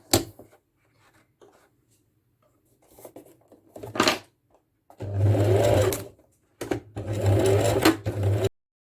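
Sewing machine stitching coiled rope into a basket, with short bursts of rapid motor-driven stitching separated by quiet pauses and faint handling sounds, no speech.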